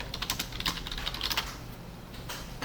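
Fingers typing a search on a computer keyboard while coding a video list layout, a quick close run of clicking keystrokes with a short pause before a final tap, no voices.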